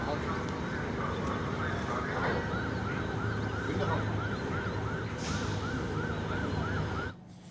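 Migratory birds at Bhola, Bangladesh, give a rapid series of repeated nasal honking calls in a steady rhythm. The calls sit over a constant rushing background before ending abruptly.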